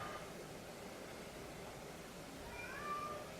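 A pet cat gives a couple of faint meows indoors, one brief and one slightly longer and rising, over a quiet background hiss.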